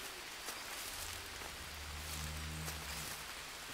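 Steady rain patters down in the Green Hell survival game's jungle, a soft continuous hiss with a low droning hum swelling underneath midway through; no one speaks.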